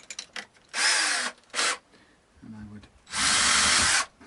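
A power drill boring string-through holes in a guitar body, two bursts of whining drilling separated by a short pause and low mechanical noise, then a longer sustained run, close up.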